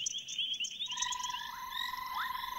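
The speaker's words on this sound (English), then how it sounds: "This banded rubber frog follows its mate's call, who is calling from a hollow in the ground" Banded rubber frogs calling nearby, with a sustained trilling note joined by bursts of chirping calls that overlap continuously, no voices present.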